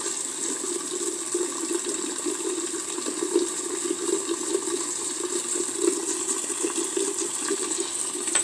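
Liquid is poured steadily into a vacuum filtration funnel fitted with small filter paper during an acetylsalicylic acid synthesis, a continuous close splashing trickle with a hiss running throughout.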